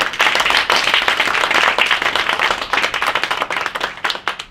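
A church congregation claps vigorously together, dense steady applause that stays loud throughout and thins slightly toward the end.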